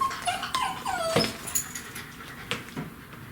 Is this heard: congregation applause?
no